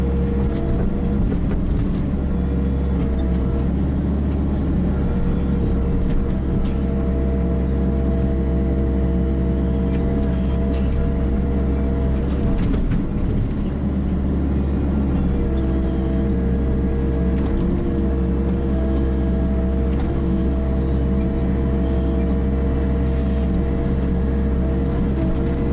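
Kubota KX121-3 mini excavator running steadily at half throttle while removing tree stumps, a continuous low diesel drone with hydraulic strain, close and loud throughout without speech.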